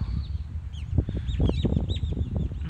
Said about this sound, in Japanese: 結構鳥のさえずりが聞こえるんだよな。